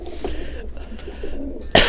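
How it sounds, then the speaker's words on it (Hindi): A few pigeons cooing on a rooftop, soft low repeated coos close by for under two seconds, ending in a sudden louder burst of noise. "तो ये कुछ चंद कबूतर हैं"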